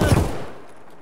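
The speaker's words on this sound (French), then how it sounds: "mais c'est quoi ces tirs?" Gunfire in the video game Escape From Tarkov, a loud burst of shots up front that quickly fades into a lingering reverberant tail.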